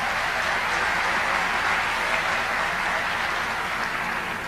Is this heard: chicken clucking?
no